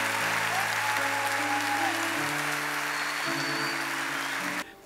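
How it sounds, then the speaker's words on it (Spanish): Church congregation applauding during a Christmas service, a steady wash of clapping that stays loud and continuous before cutting off near the end, with a sustained organ or keyboard chord underneath. "A veces hasta un aplauso es una celebración."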